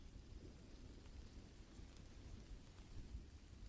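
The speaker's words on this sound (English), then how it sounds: "I have the rain as the background sound" Steady rain falls with low, rolling thunder rumbling beneath it. The storm sounds soft and distant, a continuous even wash with no voices.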